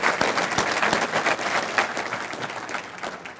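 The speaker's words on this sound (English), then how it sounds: "Let's give them a hand of" An audience at a mayor's State of the City address breaks into sustained applause, a dense wash of many hands clapping loudly throughout before gradually thinning toward the end.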